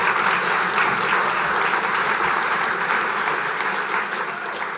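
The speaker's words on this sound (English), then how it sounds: "a round of applause to welcome our panel." A large audience claps steadily to welcome a panel at a Canadian Club of Toronto private equity outlook event, a thick, even wash of applause that stays loud throughout and eases slightly toward the close.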